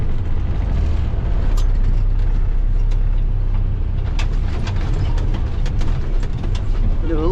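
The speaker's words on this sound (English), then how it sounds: "Do a little four-wheel drive with my CJ5." A Jeep CJ5 driving in four-wheel drive gives a steady, loud engine and road rumble that holds unbroken throughout, with occasional faint knocks over the drone.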